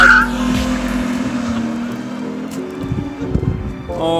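A race car built for a Death Race pre-run pulls away down the road, its engine roaring loud and close at first and then fading, with brief tire squeal and scattered clatter.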